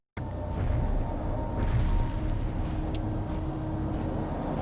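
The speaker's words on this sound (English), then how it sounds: "Romanov, the explosives will detonate in 3, 2, 1." Explosives detonate in the war strategy game World in Conflict: a sudden heavy blast followed by a sustained low rumbling roar with scattered crackles, loud and dense throughout.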